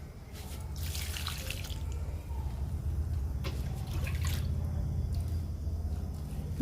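Homemade leaf liquid fertilizer poured onto potted indoor money plants, a soft, continuous trickle and splash of water running steadily into the soil over a low background hum.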